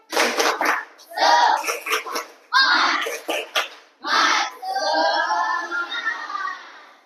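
Schoolchildren in a classroom do a rhythmic clapping chant in short grouped bursts of hand claps mixed with their voices, ending in a longer burst of clapping and cheering.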